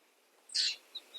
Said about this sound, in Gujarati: પક્ષીઓનો અવાજ